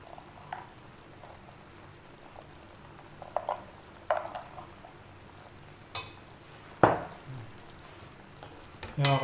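Peas, shrimp and other ingredients are stirred in a cooking pan: a soft, low sizzle sits under scattered utensil scrapes and knocks, with a few louder clacks against the pan near the end.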